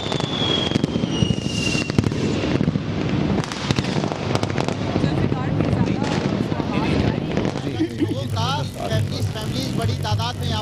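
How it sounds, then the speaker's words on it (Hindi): New Year fireworks over the sea mark the arrival of 2020 in a loud crackling, popping barrage with sharp bursts, heard beneath a voice talking, while outdoor wind noise hits the microphone. "साहिल समंदर के ऊपर भी आतिशबाजी का सिलसिला जारी है"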